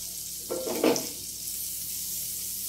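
Butter melting in a hot pan over a low flame gives a soft, steady sizzle, with a brief louder crackle near the start before it settles into a quiet, even hiss.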